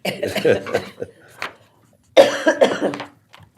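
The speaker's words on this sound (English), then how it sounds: "I haven't had a coughing fit yet, but I'm having one today." Several harsh coughs burst out in a cluster during a county commissioners' meeting, then a pause, then a second louder round of coughing, close to the listener.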